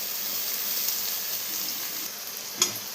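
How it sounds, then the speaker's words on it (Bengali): Ginger garlic paste frying with small onions in a kadai, a continuous close sizzle of hot oil with faint stirring and a single sharp spatter near the end, no voices. "পেঁয়াজ ভাজা হয়ে গেল, চলে গেল আদা রসুন পেস্ট,"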